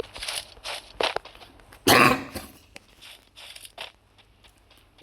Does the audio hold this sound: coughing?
yes